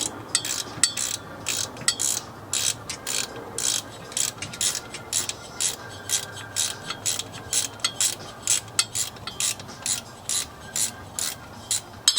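A ratchet wrench with a 9/16 socket turns a bolt on a 1989 Toyota Land Cruiser FJ62 3FE engine during a water pump job: rapid, close clicking in short repeated bursts of strokes, steady rhythm throughout, with no talk.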